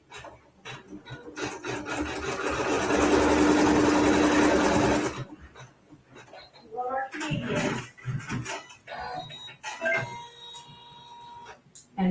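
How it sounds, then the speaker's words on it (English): A sewing machine running a seam through quilting fabric with neutral thread, a loud steady whirring stitch for about five seconds, then stops as handling noises, fabric rustling and a voice follow. "with that neutral colored thread, we'll sew the seam"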